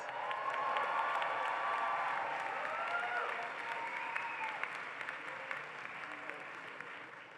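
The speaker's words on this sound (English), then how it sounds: "Again, please hold your applause until the end" Commencement audience applauding as law school Juris Doctor graduates are presented, with a steady, dense crowd clapping at moderate loudness and a few faint cheers mixed in, easing slightly toward the end.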